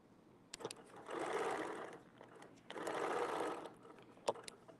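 A sewing machine stitches fabric in two steady bursts, each lasting about a second, with brief clicks and pauses between them as the work is repositioned. The sound is close and moderately loud, and nobody speaks.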